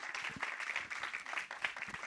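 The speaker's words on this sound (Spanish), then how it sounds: "un aplauso para Silvia, por favor." Audience at a talk applauding a speaker, steady moderate clapping from a room of people, fairly faint and continuous throughout the brief moment.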